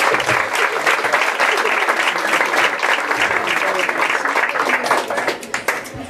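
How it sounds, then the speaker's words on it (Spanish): Lively group applause at a family gathering in Tlaxcala, with brisk overlapping clapping from a crowd that stays loud, includes some voices mixed in, and tapers with a few scattered claps at the end. "Ya, aplausos."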